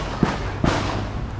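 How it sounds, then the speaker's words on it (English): Fireworks go off near a traditional market in Mae Hong Son, Thailand. Two dull, distant thumps come about half a second apart over faint background noise. "Fireworks cranking."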